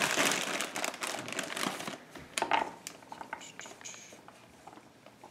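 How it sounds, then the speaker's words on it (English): A long knife cuts through a row of carrots laid side by side on a board, giving crisp crunchy chops and scraping taps in irregular bursts close up, with no talk. "we're going to put them in a row and cut them in half"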